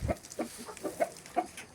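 A chicken gives several soft, short clucks in an uneven rhythm, fairly close but quiet over low background noise.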